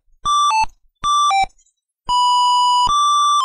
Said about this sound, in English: It's just straight up computer beeping noise